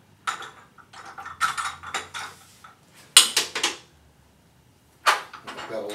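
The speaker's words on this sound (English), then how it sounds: "we'll change wrenches." Metal bear claw wrenches clank and clatter as they are swapped and handled, a run of close, bright clinks and knocks in uneven bursts separated by short silences.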